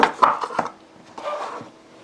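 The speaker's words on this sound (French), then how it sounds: "Donc avec mes ciseaux à ruban." Ribbon scissors snip through ribbon while crafting a shaker box, giving a few sharp close cuts in quick succession followed by softer rustling, with no talking.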